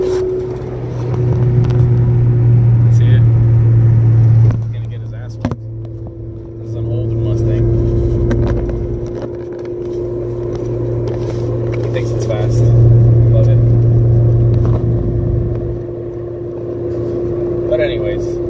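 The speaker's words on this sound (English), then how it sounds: "There's this kid in a Mustang trying to race me." A Mustang's engine runs alongside on the road, a loud, steady low rumble that swells and eases as the car keeps pace, heard close with continuous road and cabin noise underneath.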